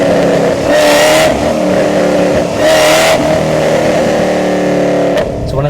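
A 5th gen Chevrolet Camaro ZL1 engine revs loudly while driving, a deep, close rumble that swells twice in strong pushes before dropping back to a steady drone, with a brief sharp transient near the end.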